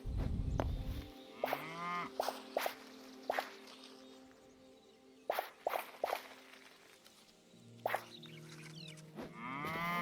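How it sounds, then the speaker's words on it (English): Cows in the video game Hytale moo repeatedly, several drawn-out calls spaced across the stretch, mixed with dripping and plopping game sounds over a quiet background. "You are cows. Just normal cows."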